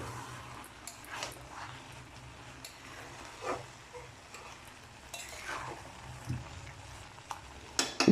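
Milk and grated carrots simmer over high heat for carrot halwa, giving a soft, steady bubbling sizzle with occasional stirring scrapes and light utensil clinks close by, no voices.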